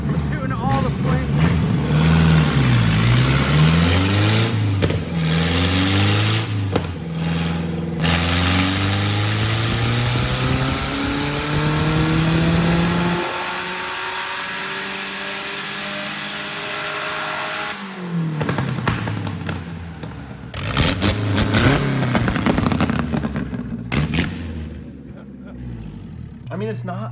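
A homemade Ka-T build engine on a dyno revs hard and close, its pitch sweeping up and down repeatedly, dropping to a lull midway before surging again through several more loud climbs.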